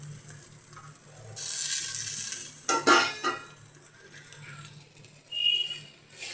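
Snacks being fried and stirred in an iron wok, with a spatula scraping and clinking against the metal in bursts over a steady sizzle, close by and no talking.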